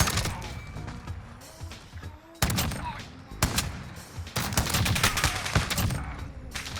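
A Rytec AMR .50 cal sniper rifle firing explosive rounds in a video game: several loud, booming shots land at irregular intervals over a busy bed of battle noise and gunfire, with brief speech mixed in.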